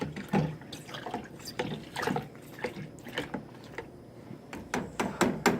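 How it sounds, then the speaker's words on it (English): Ice and liquid iced coffee slosh and clink in a container in an irregular, repeated rhythm, close up, as it is stirred vigorously, with no talking. "you stir it in real good, and the warm coffee will help melt it all together."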